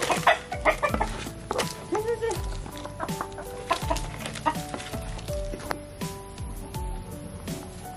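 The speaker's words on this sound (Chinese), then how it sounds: "我家婆喂鸡" Chickens clucking and squawking close by as they are fed in a rural farmyard, with repeated busy calls overlapping one another and a faint voice now and then in the background.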